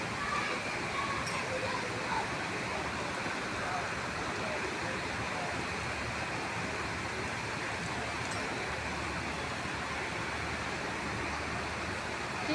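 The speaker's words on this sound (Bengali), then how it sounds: "খুব সুন্দর বৃষ্টি হচ্ছে" Heavy rain falling beside a house, a dense, even hiss of downpour that holds steady and unbroken for the whole stretch, fairly loud with no clear pauses.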